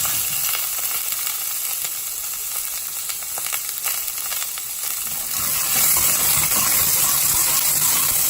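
Onions frying in a non-stick fry pan give a steady, loud, hissing sizzle that swells a little louder partway through, with no voices.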